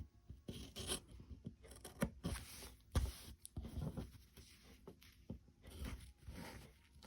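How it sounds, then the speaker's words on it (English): Fabric corner being cut away with sharp scissors or a rotary cutter while making a boxed corner in sewing, giving a series of close, soft rasping snips and rubbing scrapes in an irregular rhythm. "you can use either a pair of sharp scissors or a rotary cutter, and you're actually going to cut that away"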